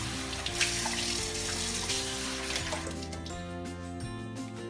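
Water poured into a bowl to activate yeast for pizza dough, a steady running trickle heard alongside sustained musical tones throughout.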